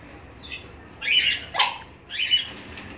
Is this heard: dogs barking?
yes